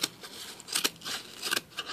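Sharp scissors snip through tulle in a quick run of crisp, close, quiet cuts with brief pauses, with no talking.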